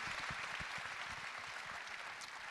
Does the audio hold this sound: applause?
yes